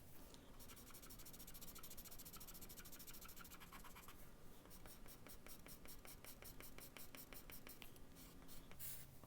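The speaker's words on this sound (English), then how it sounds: "I'm going to use my charcoal pencil this time." A charcoal pencil shades on paper, scratching and rubbing in dense, continuous strokes that stay steady and close throughout, with quick back-and-forth texture and no voices.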